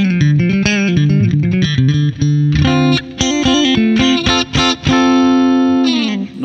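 Electric guitar played through a Two Notes OPUS amp simulator with a bright, clean tone, ringing chords and single notes strummed loudly with short pauses between phrases.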